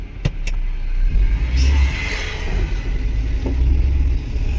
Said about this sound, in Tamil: ஸ்டார்ட் பண்ணிடுறா வண்டி